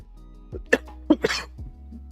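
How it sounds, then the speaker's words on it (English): A few short, rough coughs in quick succession, close to the microphone, with no talking. "I'm trying to remember to mute every time I cough"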